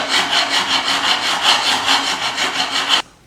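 A very sharp chisel pares wood at a low angle, giving a close, rhythmic series of bright rasping strokes, about a dozen in steady succession, before stopping abruptly.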